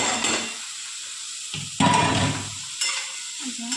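Bottle gourd pieces drop into a pan of hot oil and water for a gourd-and-shrimp curry, giving a loud hissing sizzle that swells and fades in bursts, mixed with occasional stirring and pan noises.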